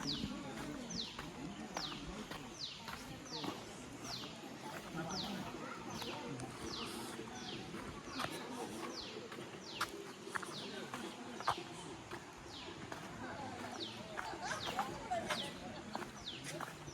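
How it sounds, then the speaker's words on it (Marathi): Forest birds near Hemalkasa call in quick repeated chirps and whistles, with a low cooing underneath, forming a continuous, moderately distant chorus over a steady background of insects. "पक्ष्यांचे आवाज,"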